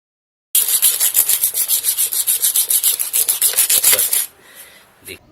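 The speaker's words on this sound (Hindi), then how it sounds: "पदार्थों को काट कर देखिए या रेगमाल से रगड़ कर देखो।" Sandpaper rubs briskly over a material in a rapid, even series of about a dozen and a half strokes for four seconds, then stops, followed by one brief final scrape, loud and close.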